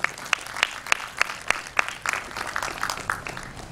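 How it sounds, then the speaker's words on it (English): Audience applause at a school blood donation camp, a crowd clapping steadily with sharp irregular claps throughout, fairly close and without talk. "It should be a huge round of applause,"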